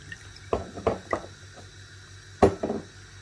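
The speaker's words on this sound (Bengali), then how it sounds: "দিয়ে দিব প্রায় 2 টেবিল চামচ পরিমাণ রাইস ভিনেগার" Rice vinegar poured into a pasta sauce in a home kitchen, heard as a few soft splashes and clinks from a spoon and pan in short separate bursts, fairly close and quiet, with no talking.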